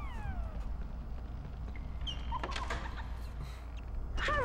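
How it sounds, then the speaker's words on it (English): A kitten meows in the Harry Potter and the Sorcerer's Stone video game, with thin rising and falling cries over a steady game background hum, a couple of calls near the middle and another near the end. "Can you see my kitten? I hear her down there meowing."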